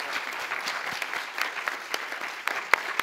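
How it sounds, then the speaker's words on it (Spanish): Audience applause at the first International Congress of Arthritis Patients in Barcelona, a steady bright patter of many hands clapping throughout, fairly near, with a few sharper individual claps standing out and no talk over it. "yo creo que se merece un aplauso"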